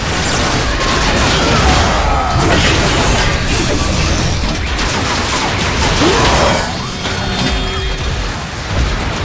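Sustained loud gunfire and heavy blasts in the Transformers: Fall of Cybertron video game, a dense continuous barrage with mechanical clanks and booms running throughout.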